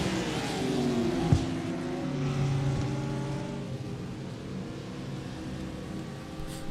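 A Lamborghini race car in a sim racing game, its engine droning steadily with rising and falling harmonic pitch as it runs alongside other cars, loud and continuous throughout.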